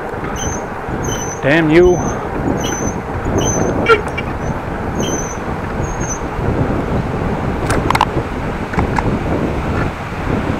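The pedals of a Dutch bike squeal in short, high, regularly spaced chirps while it is ridden, under heavy wind rumble. A voice briefly speaks.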